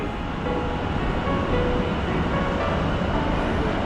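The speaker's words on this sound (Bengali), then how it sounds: "আমাদের ট্রেনটি ছেড়ে চলে যাচ্ছে" A New York subway train pulling out at Jamaica: a loud, steady rumbling roar of wheels and cars close by, holding constant throughout without voices.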